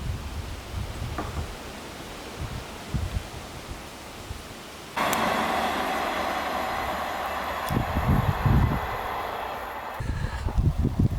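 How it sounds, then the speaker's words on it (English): A non-stopping train running through a rural northern English station at 60 mph or more, rising suddenly into a loud, broad rushing roar with rattling bursts that carries on steadily after quieter ambient rustle. "My train approaches."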